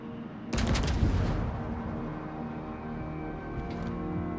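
Battleship main guns fire in the naval game World of Warships from the tier 9 Karl XIV Johan, giving one heavy salvo boom that rumbles into a long fading roar with a faint later echo.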